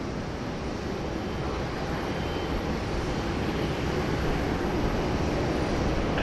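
An airliner at Sydney Airport in heavy rain, its broad engine roar steady and constant, blending with the dense hiss of rainfall.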